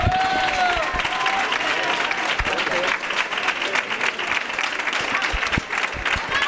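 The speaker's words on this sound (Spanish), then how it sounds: "Un fuerte aplauso para Diego Nieto" A hall audience at a 2017 carnival proclamation event in Puerto Serrano bursts into loud, sustained applause, dense clapping close and continuous throughout with a few scattered cheers.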